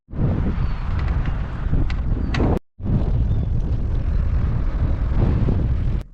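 Strong wind in a town in Wales buffets the microphone in a heavy, roaring rumble that drops out briefly, then returns just as loud.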